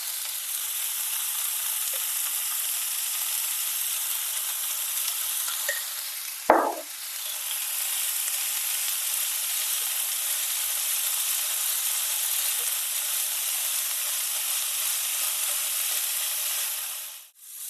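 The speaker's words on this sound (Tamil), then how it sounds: "இப்போ இந்த வெந்தயக்கீரையை இது கூட சேர்த்து ஒரு 2-3 நிமிஷம் நல்லா குக் பண்ண போறோம்." Fenugreek leaves cook with garlic in a pan, making a steady even sizzle that runs throughout, broken once by a sharp scraping knock from a spoon partway through, with no talk.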